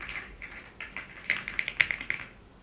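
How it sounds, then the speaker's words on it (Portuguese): A computer keyboard's keys clatter in quick uneven taps, starting soft and growing into sharper, louder clicks, close up with no talk. "O teclado foi meu irmão que me deu. Inclusive, eu adoro o som dele."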